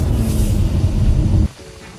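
BMW X3 engine and exhaust under acceleration, a loud, deep, steady roar heard close up for about a second and a half before cutting off abruptly to a quieter hum.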